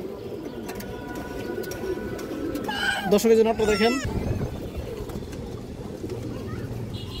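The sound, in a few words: pigeons cooing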